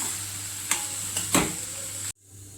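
Leftover chapati crumbs are stirred in a pan, giving a steady soft sizzle with a few scraping strokes of the spoon before the sound cuts off abruptly near the end.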